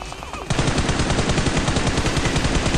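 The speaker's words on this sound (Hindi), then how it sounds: "तभी सामने से मेरे को यूजी का फायरिंग का साउंड आता है" Rapid automatic gunfire in a battle royale video game rattles loud and close in a steady, unbroken stream of shots after a brief quieter lead-in.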